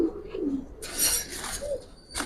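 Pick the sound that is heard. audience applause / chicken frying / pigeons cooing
pigeons cooing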